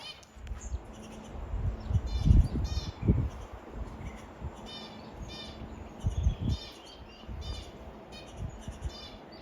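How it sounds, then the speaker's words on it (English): Birds call at Alice Springs Desert Park, with repeated harsh crow-like caws and chirps over a low rumble of background noise and nearby movement. "There's birds everywhere in here."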